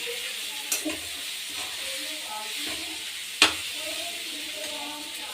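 Potatoes and cauliflower stirred and frying in a pan with little oil, a steady soft sizzle throughout, broken by two sharp scrapes of a spoon against the pan.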